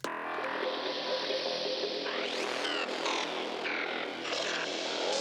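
A Vital synthesizer atmosphere patch plays alone, a dense sustained pad with rising sweeps and shimmering bright textures that swell in waves at steady loudness.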